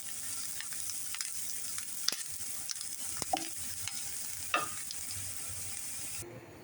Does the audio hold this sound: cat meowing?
no